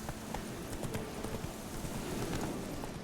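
In The Witcher 3: Wild Hunt, a horse's hooves clip-clop in a quick, steady rhythm, moderately loud against a dense game soundscape.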